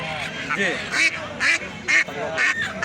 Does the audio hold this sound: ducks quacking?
yes